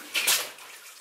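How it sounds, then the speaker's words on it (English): Footsteps slop through mud and water inside an underground placer mine, a short wet splash and squelch with a second splash starting at the very end. "I'm kind of slopping through mud and water here"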